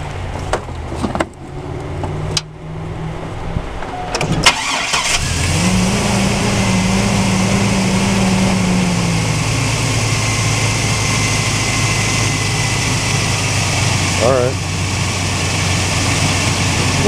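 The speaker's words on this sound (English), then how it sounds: "Well, the truck is now running." A truck engine cranks briefly and catches around five seconds in, then settles into a steady, loud idle that continues close by to the end, with no talking over it.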